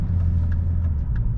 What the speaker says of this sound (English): I really enjoy driving this car, although it's not fast.